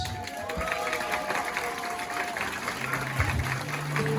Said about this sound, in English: Let's give them both one more big round of applause.